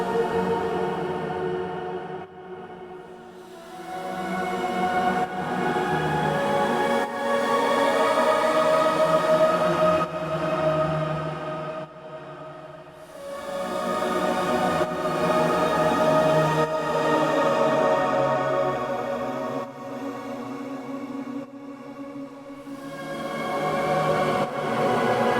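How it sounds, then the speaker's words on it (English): A heavily processed choir built from one layered voice swells and recedes in long sustained waves, dense and full, with brief dips between phrases and no speech. "I used my voice and made a choir out of my voice for this and really processed it."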